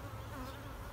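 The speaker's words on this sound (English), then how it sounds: "hopefully we're looking for a laying queen, and this hive can start rebuilding." Honeybees hum around an open beehive frame, a brief, faint, steady buzzing drone with no voices.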